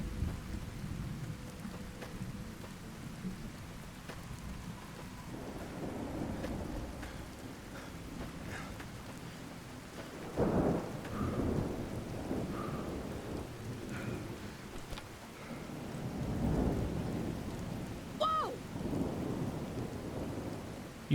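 Rainstorm in the video game Fallout: New Vegas, with steady rain hissing on surfaces and several deep thunder rumbles rolling in and fading, one sharper crack near the middle, no talk.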